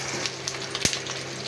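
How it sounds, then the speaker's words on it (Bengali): Rohu fish pieces frying in hot oil in a pan, a steady close sizzle with a few soft crackles and one sharper pop near the end, no voices. "মাছগুলো ভাজা হোক।"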